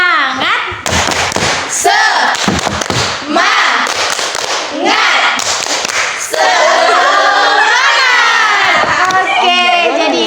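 A group counseling session's tepuk semangat chant, with participants clapping in rapid loud rhythmic bursts as the chant is voiced. The clapping gives way to lively overlapping voices and cheering.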